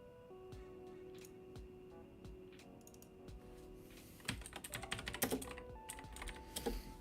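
Fingers tap on a computer keyboard during a live forex trading session. Sparse, close keystrokes start the passage, then build into a faster, louder burst of typing.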